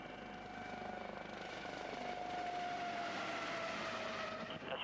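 Helicopter flying off the Florida coast, a steady, faint rotor and engine drone with a sustained whine, holding even throughout with no speech.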